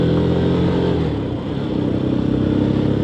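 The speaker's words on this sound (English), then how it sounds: "get the revs up." A Lexmoto ZSB motorcycle engine on the road, a loud, steady drone that dips briefly and then climbs again as the revs build, heard close from the rider's position with no talking.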